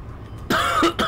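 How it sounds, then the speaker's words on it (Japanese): A person coughs close to the microphone, two quick harsh bursts following a brief throat sound. "今天怎么开始咳嗽了？"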